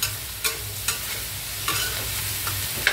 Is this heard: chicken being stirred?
yes